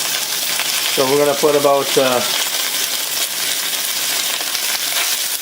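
Marinated beef searing in a hot pan, a steady broadband sizzle running throughout, with someone briefly talking over it near the start.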